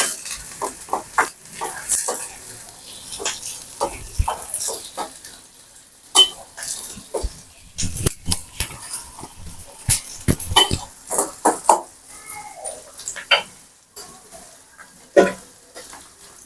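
Mushrooms and potatoes being sautéed in a pan: a spatula stirs and scrapes with irregular clinks and knocks over a faint, steady sizzle, close by, with no talking.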